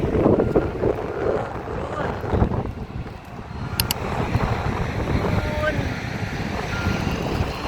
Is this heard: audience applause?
no